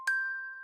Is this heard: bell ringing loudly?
yes